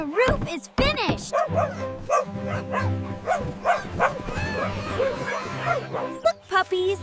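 Cartoon puppies yip and bark in short bursts over a bright music bed, with a voice talking throughout near a newly finished doghouse.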